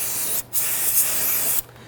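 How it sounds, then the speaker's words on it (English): Solvent sprays from an aerosol can onto a radiator hose area of a 2011-2017 Nissan Quest during radiator replacement: a short hiss, a brief pause, then a longer steady hissing burst, close and alone. "I'm going to go ahead and spray this down with some solvent."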